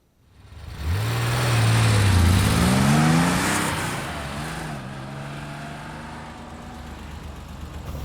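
A 2019 Porsche Cayenne engine revs up under acceleration while driving, its pitch climbing and dropping through several smooth gear shifts before settling into a steady cruising hum.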